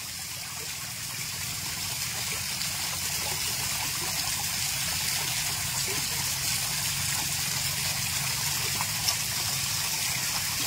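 Water from a newly drilled hand-pump well beside the sea, 110 feet deep, gushing and splashing in a steady, continuous broadband rush that stays near and fairly loud throughout.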